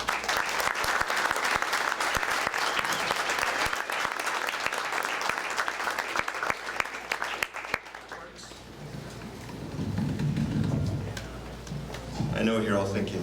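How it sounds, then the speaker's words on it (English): Audience applause at an author event for novelist Mark Z. Danielewski in Phoenix, Arizona, a loud full-room burst of clapping that fills most of the clip, then tapers off into someone speaking near the end. "So let's give him a round of applause."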